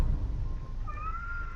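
A cat meowing in a game set in a post-apocalyptic world, rising tonal calls near the end over a steady background of game ambience.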